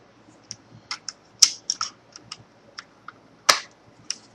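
Plastic trim pieces on an Xbox One controller click and snap into place during reassembly, giving a series of small, sharp, close-up clicks at irregular intervals. Two of the snaps are noticeably louder than the rest, and no one speaks.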